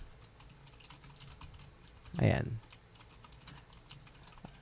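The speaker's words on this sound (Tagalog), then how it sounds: "Try naman natin mag-keyboard test." Quiet clicking of computer keys with one louder clack in the middle, recorded close up through a Maono PD400X USB/XLR microphone; a voice briefly says a word.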